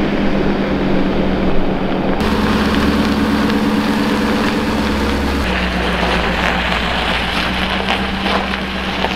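Car radiator cooling fans wired to a relay run at full speed, producing a loud, steady whooshing roar with a constant hum, like wind rushing through the engine bay, with no talking.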